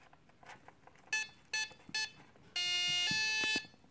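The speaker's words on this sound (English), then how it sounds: "So once I add this power, you'll hear three beeps." Supercub RC plane electronics with a brushless motor beep as power is connected: three short, loud electronic tones, then a longer sustained beep, close up with no talking.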